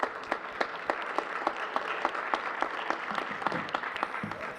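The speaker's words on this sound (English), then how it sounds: "let's give him a round of applause" A modest crowd at a school board honors and recognitions ceremony applauds, with sparse, distinct claps in a quick uneven rhythm, moderately near and lasting a few seconds.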